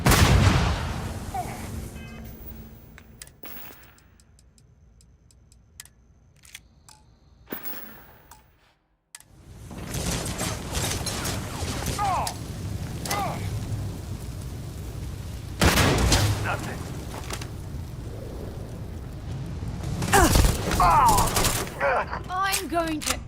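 Gunfire in the space game Starfield, with bursts of shots and heavy volleys coming in clusters amid a battle, mixed with character shouts and talk, quieting in the middle before the firing resumes loudly.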